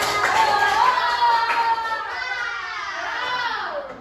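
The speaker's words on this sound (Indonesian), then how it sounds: "Tepuk tangan untuk kelompok harimau" Children in a classroom clap for the tiger group, a busy patter of small hands under excited young voices and a teacher speaking.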